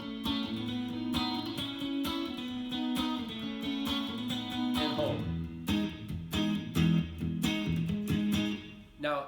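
Guitar part from a song played over a rolling keyboard backing, with rhythmic strummed chords and sharp attacks, then a slide into choppier, more staccato playing toward the end.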